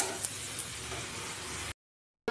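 Soya chunks stir-fried in hot oil with salt and turmeric give a steady, close sizzle and hiss that runs unbroken, then cut out before a brief return.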